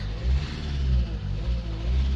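A 2014 Mercedes A180 1.5 diesel engine drones at a low, steady pitch and its revs rise and fall in gentle surges. It is close and has no talking.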